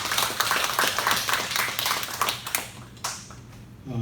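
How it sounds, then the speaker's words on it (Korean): A church congregation at a Sunday service claps together in thanks, a fast, dense patter of many hands for about three seconds that then trails off into quiet. "감사의 박수 한번 하나님께 드리겠습니다"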